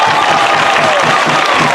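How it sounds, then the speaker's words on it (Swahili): Audience at a public speech in Tabora applauding and cheering, a steady dense wash of clapping and crowd noise held at an even level throughout, with no clear gaps. "Piga makofi tafadhali."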